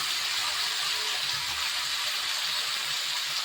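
Chopped vegetables sizzling steadily in hot oil in a pan, a dense, even hiss that holds at the same loudness throughout with no talk over it.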